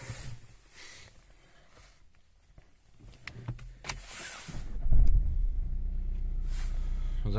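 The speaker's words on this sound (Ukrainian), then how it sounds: "Двигун працює тихенько." After a few faint clicks and a cranking start, the 1.5-litre diesel engine of a 2012 Renault Megane III settles into a steady, low, rumbling idle that continues to the end.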